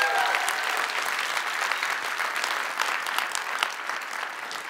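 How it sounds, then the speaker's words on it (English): A large audience at the Obama Foundation Summit morning session applauds with strong, continuous clapping that fills the hall and stays loud for several seconds. "Let's give Lakshmi, Kiran, and Avashi another round of applause."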